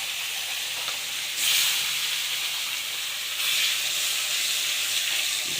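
Pieces of katla fish land one by one in hot oil in a wok, each drop bringing a louder surge of hissing sizzle over a constant frying crackle.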